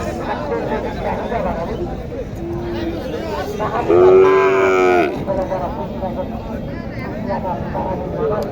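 A cow gives a single drawn-out moo lasting about a second, nearby, amid steady background chatter and people talking at a cattle market.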